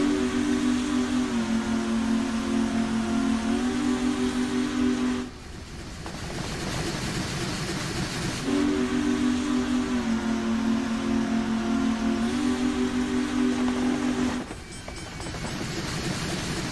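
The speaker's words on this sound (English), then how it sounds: "the whistle's supposed to be really loud and it drowns everything else out" A steam locomotive whistle in Train Simulator Classic sounds twice in long, loud, sustained blasts that drown out other engine noise, each followed by a few seconds of rumbling train running between them.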